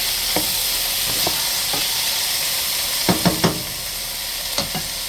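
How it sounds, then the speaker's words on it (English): Onions frying in a pot for vegetable beef soup, a steady sizzle underlying scattered spoon knocks and scrapes, with a quick cluster of stirring clacks midway, close and moderately loud. "Add our onions. Get them stirred up."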